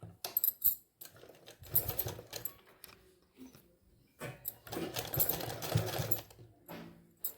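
A sewing machine stitches a pant hem in short, uneven bursts of rapid clattering, separated by quiet gaps and light handling noises.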